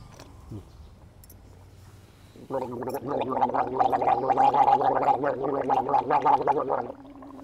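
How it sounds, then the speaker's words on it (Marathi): A person gargles loudly and steadily for about four seconds, a wet bubbling rattle in the throat, preceded by quiet background noise. "आई तर बघा कशी गुळणा करते"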